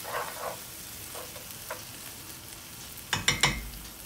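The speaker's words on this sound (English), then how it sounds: "I'll just leave that down on simmer to thicken up just a teeny tiny bit" Pasta filling simmers in a pan, a soft bubbling sizzle with occasional small pops and a short cluster of louder clinks near the end, close but quiet, no voices.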